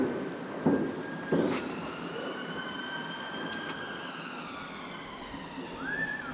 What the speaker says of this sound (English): the siren there